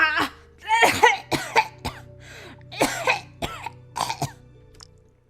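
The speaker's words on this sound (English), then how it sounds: "Okita immediately keeled over and began coughing violently" A character in the Hakuoki visual novel coughing violently, a rapid series of harsh, hacking coughs and throat-clearing bursts in quick clusters, close and loud with short gaps between fits.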